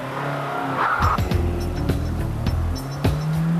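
A 1996 Nissan Primera P11 accelerates hard on a test track from about 60 km/h toward top speed, its engine note climbing loud and close while the tyres squeal and scrub in short sharp bursts.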